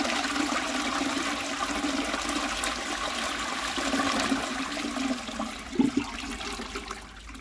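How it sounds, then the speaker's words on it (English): A Qualitas Sandringham 7.5/6 litre close coupled toilet from around 2000 flushes steadily throughout, a continuous rushing wash of water close by with a brief gurgle near the end as the flow tails off. "I'll give you another flush"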